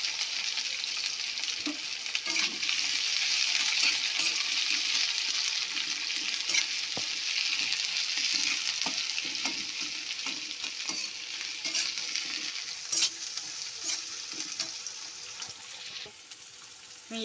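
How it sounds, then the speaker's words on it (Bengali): Onions fry in hot white oil in a kadai, a steady broad sizzle. Occasional scraping and stirring knocks from a utensil cut through it, and no one speaks. "তেলটা গরম হয়ে গেছে, এবার পেঁয়াজগুলো দেবো।"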